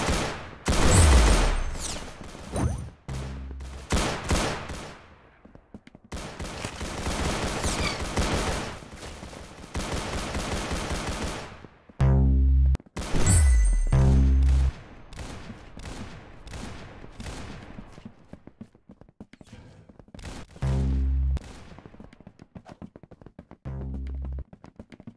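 Gunfire in the first-person shooter game Arsenal, with loud bursts of rapid automatic fire and sharp single shots arriving in irregular clusters, separated by short gaps.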